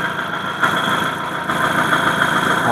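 A 2015 Hyundai i10 Sportz petrol hatchback idles close by with its bonnet open, a steady, loud mechanical hum with a faint whine and no voices over it.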